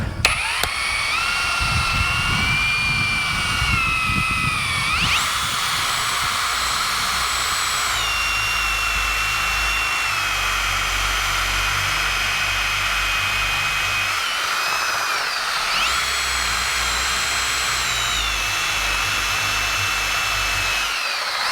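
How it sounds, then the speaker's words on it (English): A power drill bores a hole into the center of a heavy wooden fence post, a loud steady whining motor close by that holds for over twenty seconds, its pitch shifting as the load changes, with no talking. "Let's just drill a hole in the center of it."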